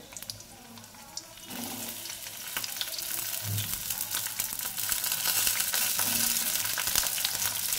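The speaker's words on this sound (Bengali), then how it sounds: "তো সর্বফার্স্ট আগে আমি পটলগুলোকে ভেজে নেব" Pieces of pointed gourd frying in hot oil, a continuous loud sizzle that builds slightly, with occasional faint clinks in the pan.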